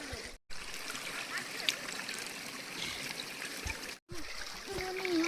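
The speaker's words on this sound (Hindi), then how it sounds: "यहाँ पे ठंडा ठंडा पानी आता है" Cold water pours from a village water supply line in a steady rushing trickle, fairly quiet, with two brief breaks and faint voices in the background.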